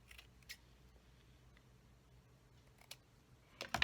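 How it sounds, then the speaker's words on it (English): Small scissors trim ribbon tails on a handmade greeting card, giving a few faint, sparse snips in a quiet room, with a louder cut at the end. "So I'm just going to cut my tails off here"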